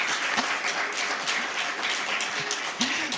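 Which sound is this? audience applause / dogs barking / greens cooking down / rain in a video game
audience applause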